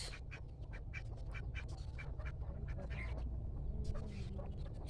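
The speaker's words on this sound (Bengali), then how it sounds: "ওই যে হাঁস" Ducks quack repeatedly in short bursts near a rural chicken house in Munshiganj, Bangladesh, over a steady low background hum.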